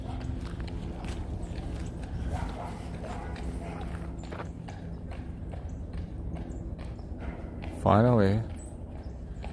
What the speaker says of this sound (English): the horse carriage